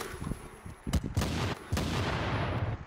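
Video game gunfire crackles in a few close, sharp bursts, with a short quiet gap before a denser spell of shots that carries on to the end.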